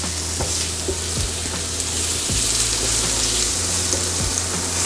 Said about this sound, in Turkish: Şöyle orta ateşte karıştırarak hiç dibini tutturmadan aşağı yukarı 3-4 dakika kavuruyorum.